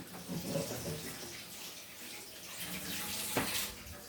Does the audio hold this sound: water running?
yes